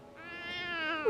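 A person imitates a cat, voicing a single drawn-out, rising meow that sounds close and clear with no other talk.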